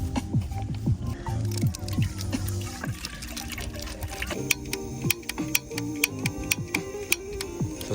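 The igniter button on a gas camping stove is clicked repeatedly without lighting, giving sharp small ticks that grow more frequent toward the end over a busy background of other faint outdoor and handling sounds.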